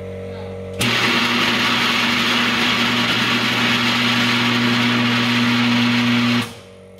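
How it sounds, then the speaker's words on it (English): A 20,000 watt microwave oven runs with magnesium ribbon inside, giving a loud, steady electrical hum and roar that starts abruptly, holds for about six seconds, then stops. "Let's see if the microwave can melt magnesium ribbon, or at least see what kind of plasma it'll make."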